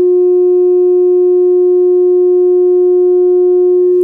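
A steady pure test tone played through a dual ported subwoofer box, one unbroken loud sustained pitch with faint harmonics, holding evenly for several seconds before cutting off.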